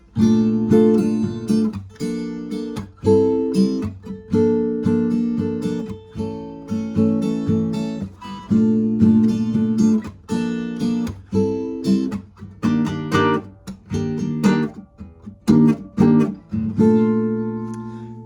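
Strummed guitar chords ring out in steady rhythmic bursts, each chord sustained briefly before the next, played alone and close without any voice.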